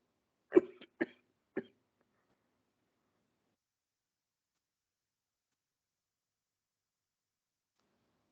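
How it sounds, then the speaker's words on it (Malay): Three sharp coughs, close by, spaced about half a second apart, then silence for the rest of the clip. "Sorry, batuk lagi lah. Tak hilang batuk ni."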